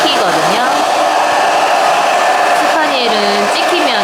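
A hair dryer blows steadily and loudly throughout, aimed over a comb while a groomer styles a spaniel's coat into an in-curl, with the airflow shifting slightly as the dryer moves.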